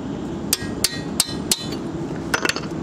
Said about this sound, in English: lightly tap the wrench with the hammer